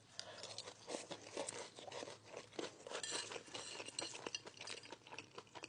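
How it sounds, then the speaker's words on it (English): Crispy homemade hash brown is bitten and chewed up close, a busy run of quiet crackly crunches with faint cutlery clatter, no talking. "Yeah, you can hear how crispy that is."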